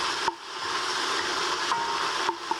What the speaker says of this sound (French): Donc là dans un premier temps, je fais revenir l'oignon.